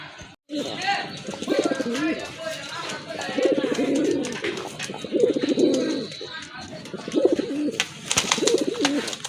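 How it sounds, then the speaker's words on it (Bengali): A pair of large pigeons coo in repeated soft, throaty phrases close by, with someone talking over and between the calls. "আরেক জোড়া কবুতর দেখেন অনেক বড় সাইজের এক জোড়া বড় পায়রা কবুতর"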